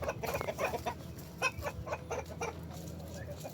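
A white silkie chicken clucks close by in a quick series of soft, short notes that trail off toward the end, with quiet background hum.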